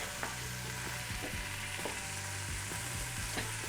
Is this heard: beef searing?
yes